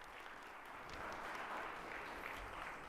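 An audience at a civic forum applauds in a steady, even wash of clapping that holds at a moderate level for the whole few seconds.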